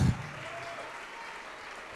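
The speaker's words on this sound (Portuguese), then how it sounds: "Vamos aplaudir mais ao nome de Jesus" A church congregation applauds, a soft, distant, continuous patter of many hands after a brief low thump at the start.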